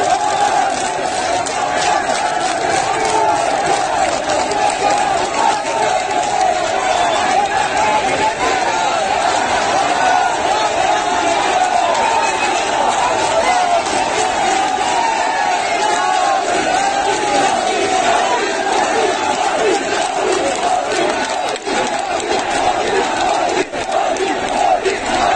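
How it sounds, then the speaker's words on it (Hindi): A large street crowd in Ajmer marches past in a dense, continuous roar of voices and shouts, with clapping mixed into the steady din of a rally supporting Nupur Sharma. "आपने अजमेर से आते हुए इस वीडियो को देखा जहां ताली बजाते हुए निकले हैं लोग नुपुर शर्मा के समर्थन"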